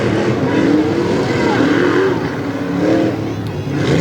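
Tough truck engine roaring and revving through a qualifying run at the Lima, Ohio Tough Trucks Challenge, a loud continuous motor drone with rising and falling pitch, a commentator talking over it.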